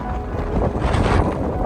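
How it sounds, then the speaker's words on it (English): Strong, cold blizzard wind in Buffalo roars and buffets the microphone in a continuous low rumble, swelling in gusts with no voices. "Winds are definitely gusting pretty good."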